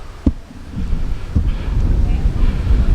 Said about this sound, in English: It's pretty windy down here on the spring.